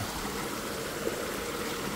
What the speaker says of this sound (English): it's just a waterfall